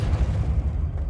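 A Depulso force spell cast in the Hogwarts Legacy video game lands as a heavy, booming blast with a deep rumbling low end that holds loud and steady for about a second.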